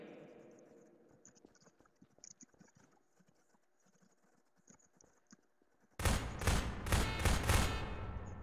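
Gunfire in the video game Prop Hunt: a loud rapid burst of shots starts abruptly partway through and continues to the end, after a quieter stretch of faint clicks and game noise.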